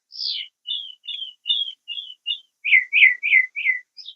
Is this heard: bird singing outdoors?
yes